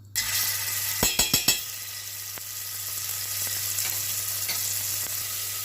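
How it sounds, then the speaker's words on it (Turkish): Tomato paste sizzles steadily in hot olive oil in a pan, with a few sharp clinks of a utensil stirring near the start, then a constant close frying hiss. "salçamın kokusu gidene kadar bu şekilde kavuruyorum"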